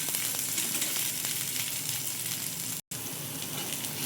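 Cauliflower, carrot and capsicum sizzle loudly in hot oil in a pan, a dense, continuous frying hiss broken only by a brief gap near the end.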